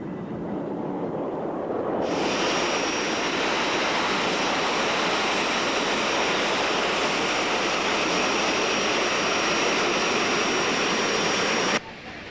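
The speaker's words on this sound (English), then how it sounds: "Now we've come to a busy airport where we're going to see some much larger jet airplanes" A large jet airplane roars loudly at a busy airport near Los Angeles, a broad sustained rushing whine rising abruptly after two seconds and holding steady before cutting off near the end.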